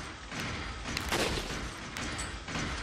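Gunfire in Resident Evil 4 Remastered crackles in dense, overlapping bursts, with sharp transient shots spread across a loud, continuous din of game combat.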